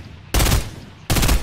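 Fortnite gunfire from a 1v1 sniping match: two loud bursts of game shots, the first at about a third of a second and the second near the end, with quieter background sound between them.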